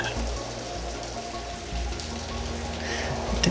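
Steady rain falls as background ambience for a dark tabletop role-playing game session, a constant hiss of drops on a surface mixed with a low droning music bed.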